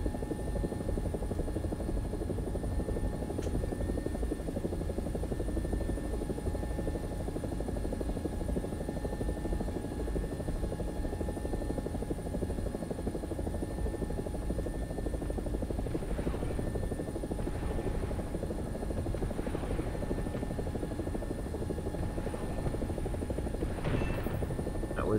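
Steady helicopter rotor and engine drone from an AB 205 in a combat flight video game, continuous and loud throughout with a few faint whooshes and bursts near the end, no talking.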